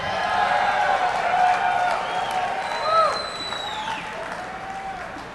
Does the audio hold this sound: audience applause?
yes